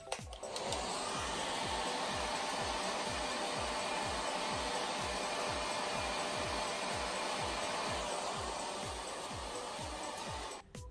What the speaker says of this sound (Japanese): ブローした後は気持ち毛羽立ちが出てきているので、この上から軽く冷風を当てます。